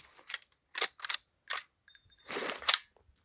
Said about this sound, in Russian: Делаем перезарядку, короче.